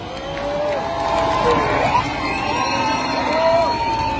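A lively crowd at a political campaign rally in Nairobi cheers and claps continuously, with shouts and whoops rising over a steady wash of noise and some voices mixed in.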